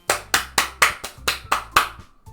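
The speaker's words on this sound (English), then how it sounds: "I'm the first to start applauding." In the video game Doki Doki Literature Club Plus, a single pair of hands claps about seven times in an even, brisk rhythm, close and crisp, with no other sound.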